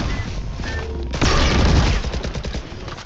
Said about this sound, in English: Why did everyone shoot that?